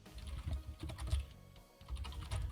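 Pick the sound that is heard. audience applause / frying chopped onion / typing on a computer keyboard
typing on a computer keyboard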